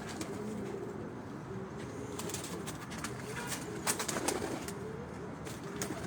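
Pigeons kept by a fancier coo softly in a loft, low throaty calls repeating at moderate distance, with occasional wing flutters and faint background noise.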